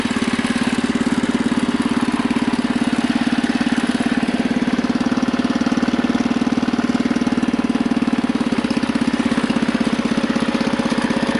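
A Husqvarna 600 engine idles steadily and close by, a constant rapid putter with an even rhythm that holds unchanged throughout.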